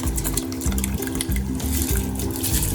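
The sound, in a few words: soaked rice added to boiling water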